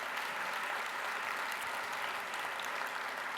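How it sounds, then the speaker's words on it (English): An education summit audience applauds in a dense, steady roar of clapping from many hands, even and continuous throughout with no voices rising above it. "I just want to give them a round of applause before we start."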